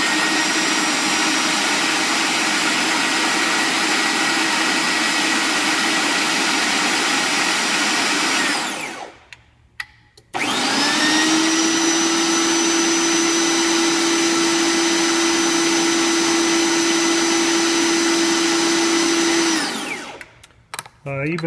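An Ercolina MD 070 portable bender makes a 180-degree bend in dead-soft copper tube. Its loud, steady motor whine runs for about nine seconds, stops briefly, then runs again for another ten seconds with a strong hum.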